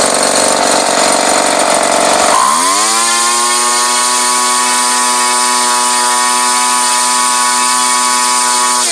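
A 21cc Craftsman gas engine, apparently driving a three-blade pusher propeller, revs down and then settles into a steady, loud, close-up low idle that hums evenly with no talk.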